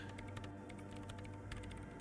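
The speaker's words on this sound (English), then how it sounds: "Is she still typing when we come back?" Rapid, steady keyboard typing in the video game Disco Elysium, a dense run of light clicking keystrokes over a low musical hum, with no voices.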